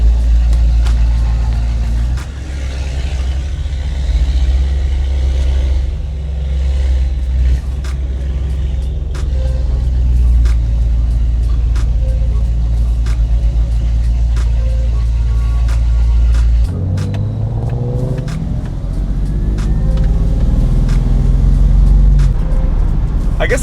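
A BMW E30 cruises along curvy back roads near Frederick, Maryland with a continuous deep engine rumble and road noise inside the cabin, shifting to a rising engine pull late on, with occasional clicks and knocks.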